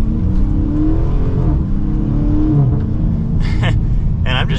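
A 2023 Chrysler 300C with a 6.4L V8 pulls away on light part throttle, its engine a steady low rumble with revs rising gently and held low, heard from inside the car.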